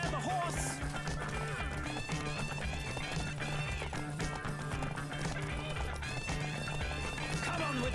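Rapid hoofbeats of a galloping horse in the video game The Witcher 3 drum steadily beneath a layered musical score, continuous and loud throughout.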